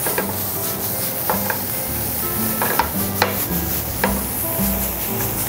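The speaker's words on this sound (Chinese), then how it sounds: "要把它炒到香气出来" Ground pork or beef sizzles and crackles in a hot pan while being stir-fried for a red-sauce shell pasta. The sizzle is continuous and close, broken by the scrape and clack of a spatula.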